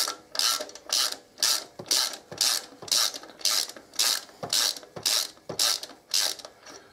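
A ratchet with an Allen socket unscrews bolts on a 2014 Harley-Davidson Electra Glide, a steady run of about a dozen loud, close clicking strokes in an even back-and-forth rhythm, with no talk.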